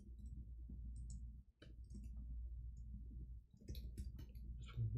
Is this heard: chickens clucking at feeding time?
no